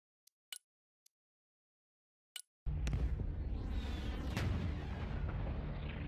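Artillery fire in the video game Broken Arrow: near silence with a few faint clicks, then a sudden heavy roaring blast that rolls on as a loud, sustained rumble.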